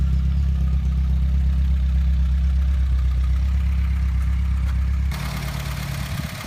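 A 1973 Ford Cortina GT replica with a 1.6 OHV engine idles steadily nearby, a deep low rumble with even throb that softens slightly near the end.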